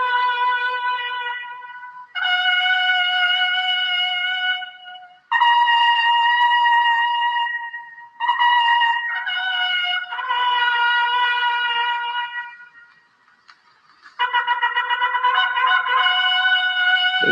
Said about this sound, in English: This is the sound of the actual trumpets being played.